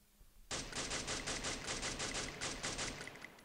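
Fast continuous burst of automatic gunfire in the Free Fire battle royale game, a dense rattling stream of shots lasting about three seconds, loud and without talk.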